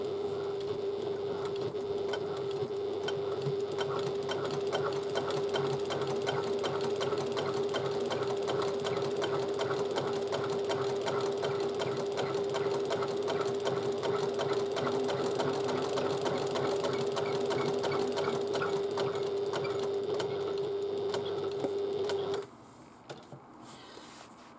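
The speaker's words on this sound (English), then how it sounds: "and then just stitch really close to the edge, as close as you dare." A sewing machine stitches steadily close to the edge of a bag, a rapid even mechanical whir with a constant tone running for about twenty seconds before stopping abruptly, leaving quiet room noise.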